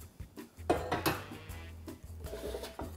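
Dishes and utensils clatter and scrape on a kitchen cutting board as room is cleared while preparing healthy chicken and dumplings, a few close knocks and rubbing sounds over three seconds, no talking.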